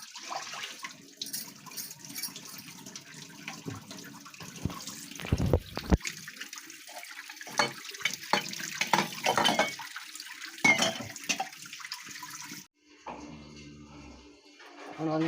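Puja utensils being scrubbed under a running tap: steady splashing water with clinks and scrapes of metal pots and dishes, close by, pausing briefly before the water gushes again near the end.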